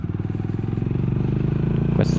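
A Honda GB350S single-cylinder motorcycle pulls out to overtake on an open road, its engine throbbing in a steady, loud, close pulse that builds slightly before a brief rise at the end.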